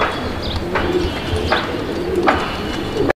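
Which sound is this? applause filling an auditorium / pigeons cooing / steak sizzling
pigeons cooing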